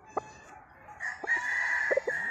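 A young gamecock stag, about nine months old, crows once nearby, preceded by a few short clucks, its call rising into a sustained, slightly rough cry.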